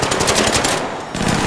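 A turret in the video game ARC Raiders fires a rapid machine-gun burst that is loud and close, stops briefly and then starts again.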